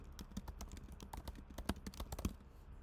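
Someone types on a computer keyboard, a quick, irregular run of light key clicks and taps, close and fairly quiet.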